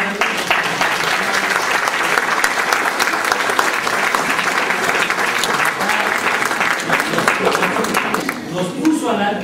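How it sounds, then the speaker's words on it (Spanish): An audience at a university architecture lecture gives sustained, full applause lasting several seconds, steady and loud, with talking mixed in toward the end. "por favor, aplaudan."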